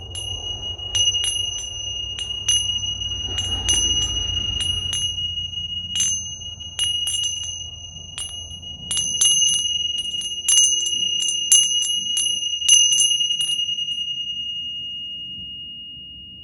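Bright chiming bells ring out during a sound healing session, repeated clear strikes in irregular clusters with long sustained ringing tones and a soft low hum underneath, fairly close and calm throughout.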